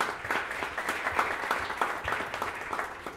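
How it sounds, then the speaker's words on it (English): An audience at a printmaking summit panel claps steadily for a few seconds, a moderate round of applause that starts to fade at the end. "Let's give him a round of applause."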